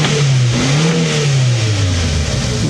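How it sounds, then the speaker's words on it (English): A 1998 Subaru Sambar 4WD truck engine revs up close and loud, its pitch rising and then falling back in a single sustained blip over steady mechanical noise. "You give it a rev and then you don't get a big cloud of anything."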